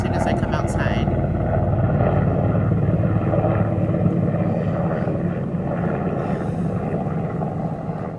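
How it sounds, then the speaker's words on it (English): A helicopter flies overhead outdoors, a loud, steady, rumbling rotor drone that fills the whole stretch, mixed with wind buffeting the microphone. "there would be a helicopter as soon as I come outside."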